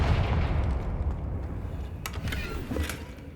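A blasting spell from the Hogwarts Legacy video game detonates as a heavy low rumbling blast, followed by a couple of sharp cracking impacts over the fading roar.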